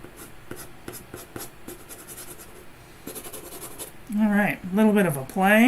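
A Kakamori dip nib writing with Diamine Crimson ink, making soft rhythmic scratchy strokes on paper, close and quiet; a person speaks toward the end.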